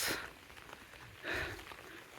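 Rain falls on a village path while cattle are driven out to graze, the first heavy downpour after 20-25 dry days; a steady hiss swells into two louder, brief gusts of patter, with no talk.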